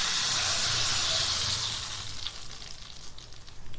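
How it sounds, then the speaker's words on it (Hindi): Hot oil tadka with browned onions poured over haleem sizzles and hisses loudly at first, then settles into softer crackling and bubbling. "ये तड़का मैंने लगा दिया।"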